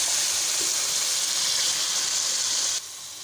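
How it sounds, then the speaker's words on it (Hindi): Water poured into minced meat (keema) with moringa flowers frying in a pan, a steady close hiss and sizzle that holds throughout, then drops suddenly in level near the end. "तो अब इसके अंदर हम शामिल करेंगे तकरीबन 1 प्याली पानी"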